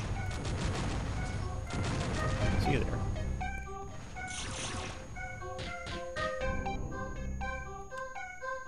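Gauss cannon fire in the Descent II video game, level 17: a run of sharp, rapid electronic shots in quick bursts over a steady game hum, then chirping tonal blips.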